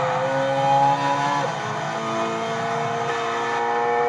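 A Subaru BRZ in Gran Turismo 6 revs high and steady, its engine whine shifting briefly mid-clip and then holding, loud and close with no talk.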